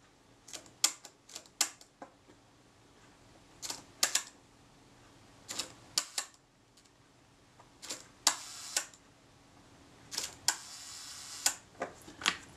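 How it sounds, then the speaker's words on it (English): Crisp mechanical clicks from the shutter of a Kodak Retina I type 118 camera being cocked and released, coming in small clusters every second or two, close and fairly quiet. "Always set the speed, then cock the shutter"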